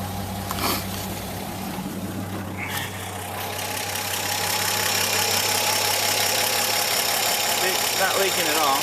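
A barn-find 1954 Chevy 3100 pickup truck with a Hydramatic transmission, its engine idling in a steady, close rumble that grows slightly louder midway, with a voice speaking over it.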